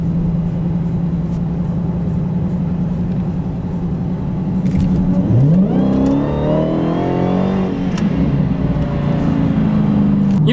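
A Dodge Hellcat set to 500 horsepower idles with a steady rumble, then the engine note climbs sharply as it accelerates hard. The rising whine and roar stay loud and close, with no talking.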